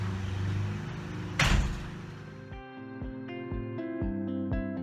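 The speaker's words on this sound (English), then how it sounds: "close the door, please." A door is closed with a single thud in a home workshop where an aircraft elevator is being built, a short, loud impact over background noise, followed by quiet music.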